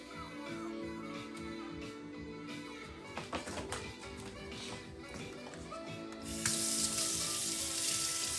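A small rata knife is rinsed at a kitchen sink with clinks and handling noises, then the tap opens into a steady gush of running water near the end, fairly quiet, no talk.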